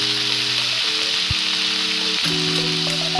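Eel fish curry ingredients with potatoes fry in a pan, an even, continuous sizzling hiss with faint tonal sounds running beneath it.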